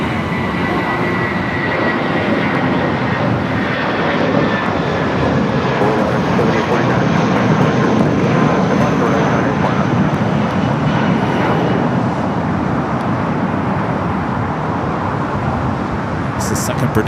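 A British Airways jet airliner at LAX gives a loud, steady broadband roar that holds for the whole stretch, with no clear rise or fade.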